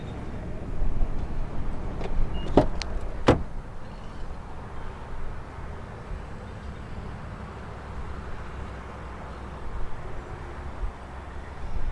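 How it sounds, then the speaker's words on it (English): A 2017 Infiniti QX60 locks and unlocks by keyless entry, with two short, sharp mechanical clicks a moment apart over a low background of outdoor rumble. "you can lock and unlock the vehicle without using the key"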